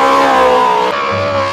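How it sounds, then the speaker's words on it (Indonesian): Toy race car with an electronic engine sound effect, a loud steady buzzing whine that shifts pitch partway through, heard up close with no talk. "Mobil balap."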